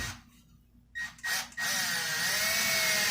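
A power drill drives a screw into a wall stud while a coat rack is hung with keyhole hangers, with a couple of short revving bursts and then a steady, loud, sustained whir that continues to the end.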